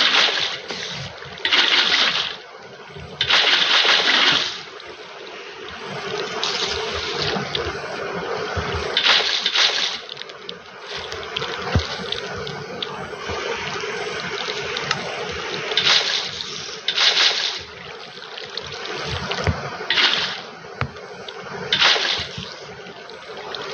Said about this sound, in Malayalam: ബക്കറ്റ് ഓഫ് വാട്ടർ എടുത്തു